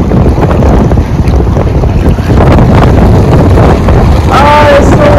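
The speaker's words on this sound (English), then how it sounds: "Oh, it's so windy." Strong wind on a mountain in Snowdonia, Wales, roars continuously and loudly, buffeting the microphone with heavy low rumble throughout, with a brief faint whistle near the end.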